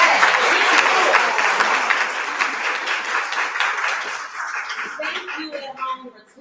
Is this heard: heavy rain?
no